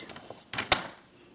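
Paper being cut while making a gift card folio, heard as two brief, crisp snipping or slicing sounds close by in an otherwise quiet room.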